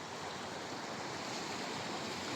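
Sea waves at the shore in Fahaheel, Kuwait, a continuous broad wash of surf with no distinct breaks, steady and fairly close.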